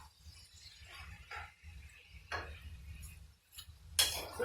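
Shrimp and chicken fried rice mixed and stir-fried in a pan, with scattered metal scrapes and clinks of a utensil against the pan, some bursts louder, over a low steady background hum.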